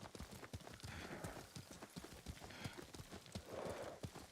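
Galloping horse hoofbeats in Ghost of Tsushima, a steady rapid clip-clop that runs close and clear through the whole stretch, with faint in-game ambience beneath.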